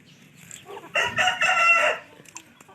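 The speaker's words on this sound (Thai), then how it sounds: "มีทั้งไก่ชน ไก่บ้าน แล้วก็ไก่พันไข่นะครับ" A rooster crows loudly and close, one long call, with softer chicken clucks before and after.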